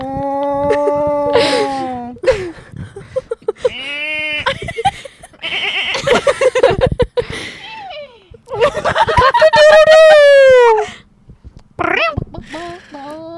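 A person's voice imitates cows eating with loud, close, drawn-out bleating and lowing calls broken by short grunts and breathy bursts.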